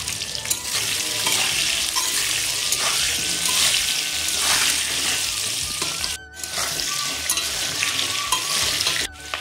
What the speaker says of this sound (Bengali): এখন কেটে রাখা আলুগুলো দিয়ে দেব।